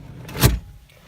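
A car seat slides back on its rails, one short mechanical whir peaking midway, close and fairly loud, then quiet.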